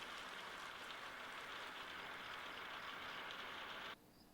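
Running water from a tap that sounds like rain, a soft steady hiss of falling water that stops abruptly near the end.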